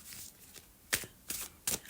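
Tarot cards are shuffled in several crisp, papery bursts, three of them louder, over a quiet room.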